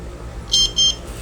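A Wyze smart door lock gives two short, bright electronic beeps in quick succession, close and clear over faint background hiss.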